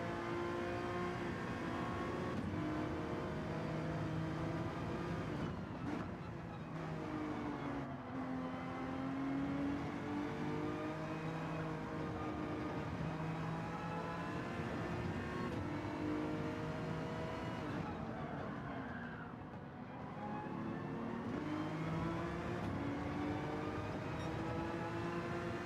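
A Honda NSX engine in Gran Turismo 7 revs hard and climbs through the gears, with repeated rises and dips as it shifts and lifts off. The engine stays loud and steady for the whole run with no talking.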